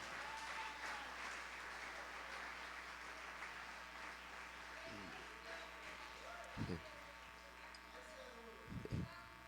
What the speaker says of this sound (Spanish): Denle un fuerte aplauso al rey.